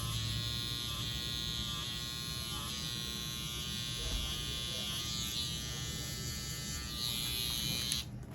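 Electric hair trimmer buzzing steadily and close during a high-taper haircut, with a constant motor whine that shifts slightly in pitch as it moves along the hair. It stops abruptly near the end.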